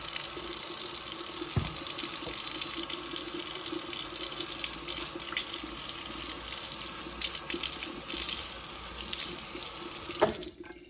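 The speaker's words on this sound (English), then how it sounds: "So when I wash it, I use warm water in my sink." Warm tap water runs steadily into a kitchen sink while a piece of stained glass for a mosaic is washed with dish soap, a continuous close splashing stream with a few clinks.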